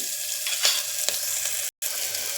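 Onions sauté in a pan for upma, a steady close hiss of frying with a few soft stirring scrapes and a brief dropout near the end.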